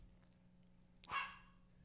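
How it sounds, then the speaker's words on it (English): A single dog bark rings out in the background of an indoor room, brief and moderately faint against a quiet backdrop. "I don't know if you can hear my dog in the background."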